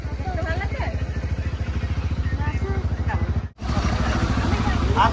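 Motorcycle engine running steadily, with a pulsing low rumble throughout apart from a brief dropout, while voices talk over it.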